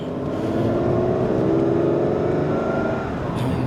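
Ferrari 512 BB engine holding steady around 2000 RPM, a close, continuous low drone with a faint uneven patter running through it, no voices.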